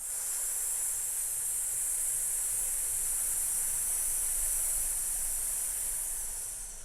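A long, steady, breathy exhale during a rib-mobility breathing exercise, a soft continuous hiss of air lasting several seconds and tapering off at the end, heard close and alone.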